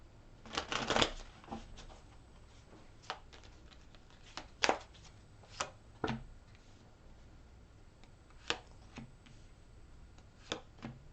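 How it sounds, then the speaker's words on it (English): Tarot cards shuffled and drawn by hand, heard as a series of crisp riffling bursts and soft slaps, strongest near the start then spaced out into single flicks, close and fairly quiet with no talking. "let's pull out more cards for Aries"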